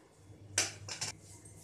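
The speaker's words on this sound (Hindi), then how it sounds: "अब कुकर खोलेंगे," A pressure cooker is opened after cooking panchmel dal, giving two brief metallic clanks and rattles of the lid in a quiet kitchen, with no talking.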